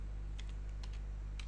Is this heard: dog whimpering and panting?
no